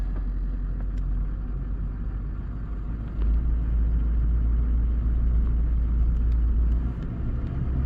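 A 2007 GM truck with a newly installed left front wheel bearing, heard from inside on a road test, gives a steady low rumble of engine and road noise that swells a little partway through, with no talking.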